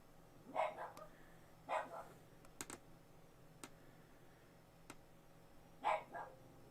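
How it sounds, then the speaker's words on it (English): A dog barks somewhere away from the microphone in a quiet room, three separate single barks spaced a few seconds apart, with a few sharp keyboard clicks in between. "Sorry about the dog barking, guys."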